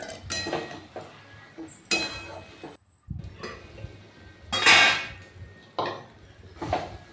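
Mung dal and jute leaves are stirred in a pot, producing irregular bursts of clinking and scraping from a utensil against the metal, with short quiet gaps between strokes.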